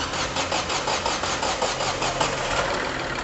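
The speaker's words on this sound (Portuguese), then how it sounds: "provavelmente o motor vai demorar um pouco para ligar, vai dar algumas partidas aí antes que ele possa entrar em funcionamento" A Ford Ka 1.0 12V three-cylinder engine with a knocking, vibrating, misfiring fault cranks with a rapid rhythmic starter pulse that turns into a rough, uneven running sound, close and moderately loud with no voices.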